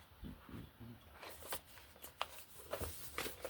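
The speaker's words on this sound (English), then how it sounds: "let me shuffle a couple of these" Playing cards riffle and flick in a series of quick, soft shuffles, close by and fairly quiet.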